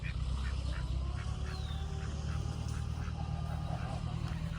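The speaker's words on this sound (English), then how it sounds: "The ducks are just chilling out" Homestead ducks, including a crested Indian runner, quack faintly in short repeated bursts during a summer morning, set against a steady outdoor background hiss.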